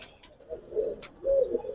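Pigeons, including Giribaz and coloured breeds, coo in two low rolling phrases, fairly close and clear, with a brief higher chirp between them.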